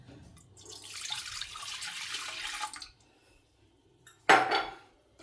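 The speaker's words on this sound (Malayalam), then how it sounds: "നമുക്കിതിലേക്ക് പാലൊഴിച്ച് കൊടുക്കാം" Milk poured over sweet mango balls in a bowl, a steady liquid splash for about two seconds, then a brief clatter of a utensil or dish after a pause.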